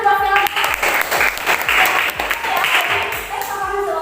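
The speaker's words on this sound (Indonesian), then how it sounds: "tepuk tangan buat Selda." A classroom of students claps for a classmate, a loud, dense burst of applause that holds steady for several seconds with faint voices mixed in.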